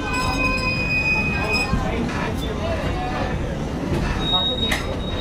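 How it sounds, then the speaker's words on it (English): Interior of a 1951 vintage TTC streetcar rolling through Toronto, a steady loud rumble and rattle with high wheel squeals and metallic whines, a voice talking briefly over the noise. "Well, we're going for a ride in one of these old streetcars."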